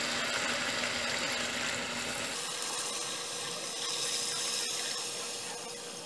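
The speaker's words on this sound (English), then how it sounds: "I'm adding more water." Water poured into a pot of brown stew pork makes a steady, close, rushing splash. Its tone shifts partway through as the pot fills, and it runs alone for about six seconds without talk.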